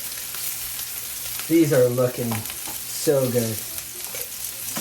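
Snowshoe hare meat frying in a pan in the Yukon, a steady close sizzle and crackle throughout, with a person speaking briefly over it.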